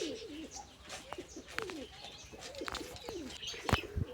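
Pigeons, a perched pair with a pied male among them, coo in soft repeated rolling phrases close by, with light chirps and brief rustles scattered through.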